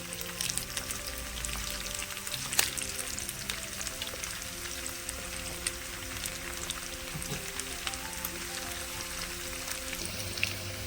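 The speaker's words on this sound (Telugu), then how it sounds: "మీడియం ఫ్లేమ్లో పెట్టే వేయించుకుంటున్నానండి" Potatoes fry in oil over a medium flame, a steady, fairly soft sizzle and crackle with small scattered pops running evenly throughout, no one speaking.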